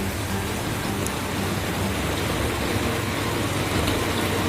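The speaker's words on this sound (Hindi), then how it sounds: "मुंबई और आसपास क्षेत्रों में पिछले 2 दिनों से लगातार हो रही है मूसलाधार बारिश।" Heavy monsoon rain pours down steadily in Mumbai, a dense, loud, continuous hiss of downpour with no break, heard close and alone without voices.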